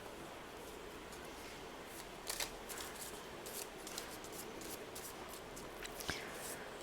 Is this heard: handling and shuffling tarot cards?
yes